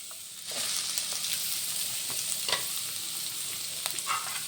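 Sliced onion hitting hot oil in a pan and frying for a breakfast dish, a bright continuous sizzle that jumps up after a brief start, with a few scrapes and clinks of stirring.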